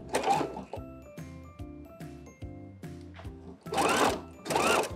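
A household sewing machine stitches thick elastic onto a woven G-string thong, chugging in short close rhythmic bursts with pauses between them, followed by two louder rustling handling noises of the fabric.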